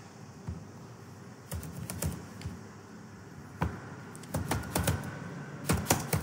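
Keys clatter on a computer keyboard in short bursts of typing separated by pauses, close and clear with no voices over them.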